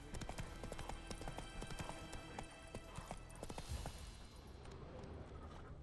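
Roach, Geralt's horse in The Witcher 3, gallops in a brisk, steady clip-clop of hooves at close range, the rhythmic hoofbeats carrying on continuously over a soft outdoor backdrop.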